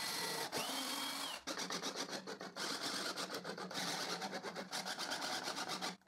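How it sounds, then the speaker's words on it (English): Power drill driving screws through a tabletop into a wooden base in a workshop, in short repeated whirring bursts separated by brief pauses, close and fairly loud with no talking. "So I screw it to the base."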